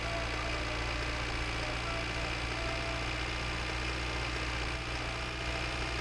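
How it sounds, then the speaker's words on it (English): The tractor in My Winter Car idles with a dense, steady mechanical drone, loud and close throughout, with an even low throb and no voices over it. "I do feel like the tractor's louder in this game than it was in the previous one."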